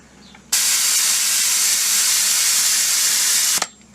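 An airbrush sprays paint onto a model during preshading, giving one continuous, even hiss of about three seconds that starts and stops abruptly.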